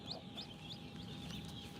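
Newly hatched Blue Partridge Brahma chicks give a run of faint, repeated high peeps at a quick, steady pace over a low background hum.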